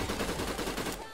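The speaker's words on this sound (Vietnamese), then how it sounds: "Khẩu súng này bắn được 30 viên liên tục luôn các bạn ạ" Rapid machine-gun fire rattles out in a fast, even burst of close shots from a first-person weapon in the video game Skibidi Toilets: Invasion, stopping abruptly after about a second.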